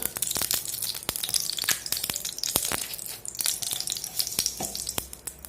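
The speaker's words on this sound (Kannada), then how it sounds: "ಒಂದು ಪಾತ್ರೆ ಇಟ್ಕೊಂಡಿದ್ದೀನಿ. 1 ಸ್ಪೂನಷ್ಟು ತುಪ್ಪ ಹಾಕ್ತಾ ಇದ್ದೀನಿ" A spoonful of ghee heats in a pan on a stove, crackling close by with sharp, irregular snaps and pops over a light sizzle.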